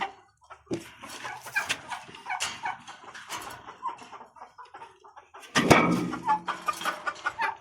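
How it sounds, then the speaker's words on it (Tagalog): Chickens cluck and squawk close by in irregular bursts, several birds overlapping, with a louder flurry of calls near the end. "Ito yung mga manok."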